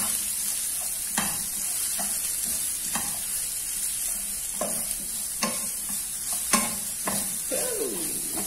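Broccoli stir-fries in a pan under a constant sizzle, with a utensil repeatedly scraping and clacking against the pan in irregular strokes.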